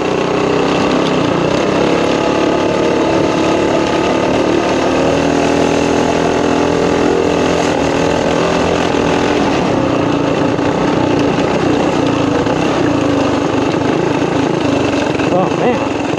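A home-built go-kart called the Cran-Kart runs its small engine in a steady, loud, buzzing drone close by for the whole stretch, with voices talking over it.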